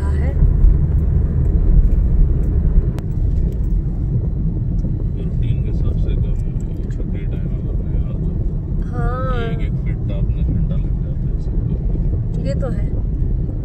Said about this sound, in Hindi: बहुत दिनों बाद बाहर और काफी ट्रैफिक चल रहा है।